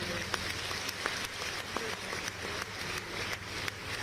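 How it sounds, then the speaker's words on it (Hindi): Scattered audience clapping for guests on stage rises faintly over room noise at a fourth-anniversary function for a parliamentary mobile health service, with separate claps sounding at an uneven rhythm. "अब एक बार तालियां मारेंगे जो मंच पर सारे हमारे अतिथि आए, इनके लिए जोरदार तालियां"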